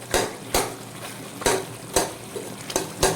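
A spoon roasts and stirs peeled-tomato masala in a pan, striking the metal in repeated sharp knocks and scrapes about every half second over a low frying sizzle, with no talk.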